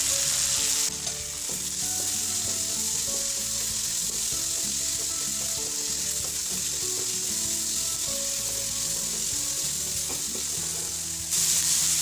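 Tomato, peanuts and anchovies stir-frying with green chillies in a pan, a loud, dense, unbroken sizzle running throughout with a busy texture of frying and stirring.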